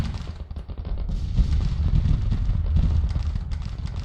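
Massed cannon fire from a Civil War battle in the game Grand Tactician: The Civil War booms as a continuous low rumble, with overlapping distant blasts and crackling musketry.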